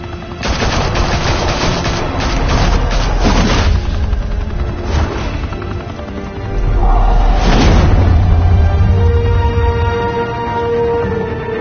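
Loud, close automatic gunfire erupts on a command and runs in sustained bursts, with booming impacts mixed in and a second heavy volley after a brief lull, in a Batman action scene.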